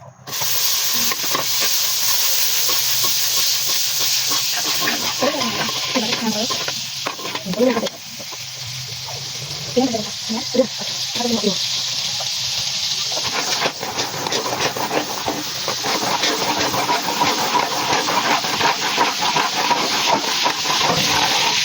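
Butter with a little oil melts and sizzles in a hot pan, a steady loud frying hiss that runs throughout, broken midway by a few brief scraping stirs.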